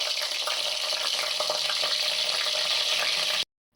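Curry leaves sizzle in hot oil in a kadai, a loud, dense, steady crackle with no talk that cuts off abruptly near the end.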